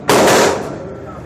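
A single loud, sharp report from a Sig Sauer P220 Scorpion Elite pistol fired at close range, with a short echoing decay afterward.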